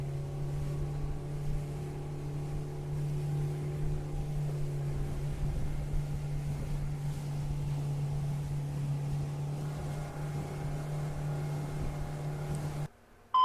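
A motorboat engine roars at full throttle, a loud steady drone that holds for several seconds with water rushing beneath, then cuts off abruptly near the end.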